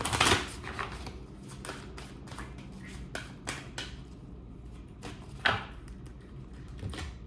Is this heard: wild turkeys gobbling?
no